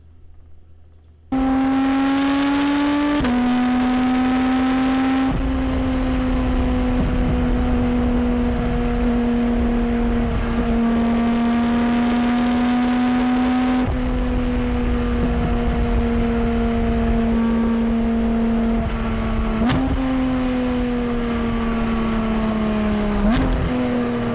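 A 2023 Porsche 718 Cayman GT4 RS with PDK gearbox accelerating hard, its engine note rising steadily through several gears with quick shift breaks, loud and close for over twenty seconds with no talk.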